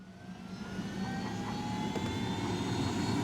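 A helicopter in the video game Ghost Recon Wildlands drones steadily, a whining turbine tone over a rough low rotor rumble that swells slightly and holds at a constant loud level.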